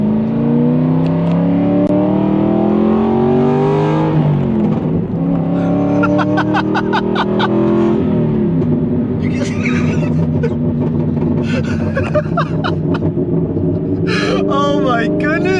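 Aston Martin V8 Vantage with a Velocity AP X-pipe, cats and stage 2 tune revving, a loud deep exhaust note that climbs and falls with crackling pops later, with someone talking over it.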